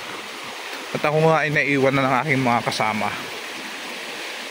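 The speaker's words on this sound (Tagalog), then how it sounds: "yung tunog ng tubig." Water rushing at Balagbag Falls forms a steady hiss beneath someone speaking close to the microphone, with the flow continuing alone after the talking stops.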